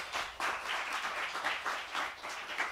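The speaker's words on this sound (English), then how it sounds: "Big round of applause for all those folks." An audience applauds at a New School jazz club concert at a live venue: a steady wash of many hands clapping, moderately distant and fairly soft, with no other sounds over it.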